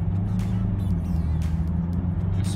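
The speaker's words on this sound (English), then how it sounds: "So now I'm in fourth, my turbo is on, and I floor it." A turbocharged BMW E90 with a slipping clutch, floored in fourth gear, gives a steady, close engine drone with a low rumble, heard from inside the car.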